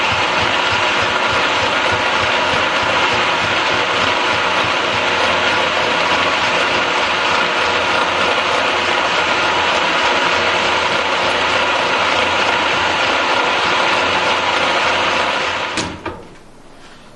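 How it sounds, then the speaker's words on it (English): A milling machine with a boring bar machines out the counter shaft bearing boss of a 1962 Harley-Davidson XLCH engine, a loud, continuous grinding whir that runs steadily for a long stretch before spinning down and stopping at the end. "put the boring bar in there, take the dummy shaft out, and then mill that counter shaft bearing boss out"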